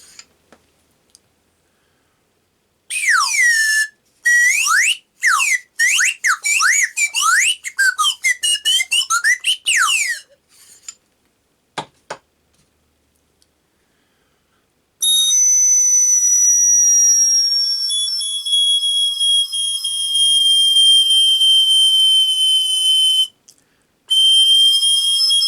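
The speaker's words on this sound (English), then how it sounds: "get that air running over the edge of that front end of that opening, and you'll get the whistle working" Loud, shrill blasts from a handmade brass whistle in a choppy series of short bursts with pitch swoops, then one long steady piercing tone held for several seconds.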